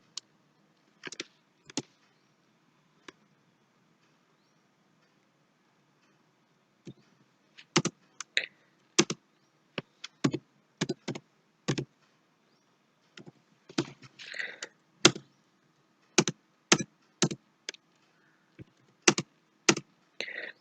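Computer keyboard typing while entering data in Mukti accounting software, with sparse, crisp close key taps in small irregular clusters separated by long quiet gaps, no talking.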